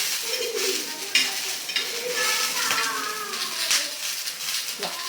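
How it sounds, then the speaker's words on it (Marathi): Green chillies roast and sizzle in a pan with a steady crackling hiss, joined by scraping stirs and occasional clinks of a utensil against the metal, close up and unbroken, with no talking. "इथे मिरच्या छान भाजल्या जात आहेत"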